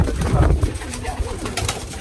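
Racing pigeon cooing inside a loft: a low, rolling coo repeats near the microphone with light shuffling and background noise underneath.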